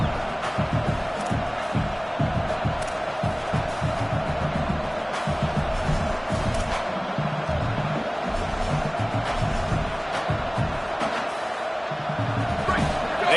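Stadium crowd noise in a college football video game, a dense continuous roar of cheering that swells and dips, heard under a commentator's voice.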